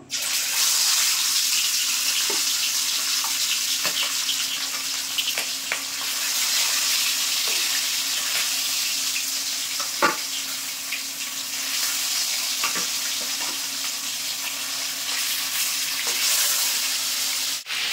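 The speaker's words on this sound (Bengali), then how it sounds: "তো দেখো মাছ ভেজে নেব।" Catfish frying in hot oil in a wok, giving a steady, broad sizzle throughout with a few sharper pops and spatters, close by and with no talking.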